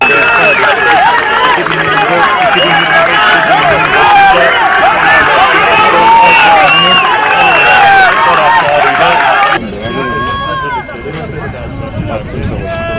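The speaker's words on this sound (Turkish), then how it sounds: "Futbolcuların tesislerinden sahaya inmeleriyle birlikte taraftarlar tezahüratlarla destekte bulundu." Crowd of Fenerbahçe football fans chanting and cheering loudly and continuously as players arrive at a training ground, dense crowd noise that drops to a thinner, quieter hubbub near the end.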